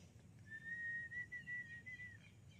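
A person whistles a single drawn-out, wavering tone outdoors on a fishing trip, faint against low background rumble.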